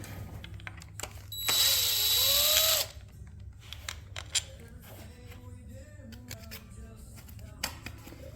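Power tool backing bolts out of a KTM starter clutch cover, one loud whirring burst of a bit over a second, followed by quieter clicks and handling noises.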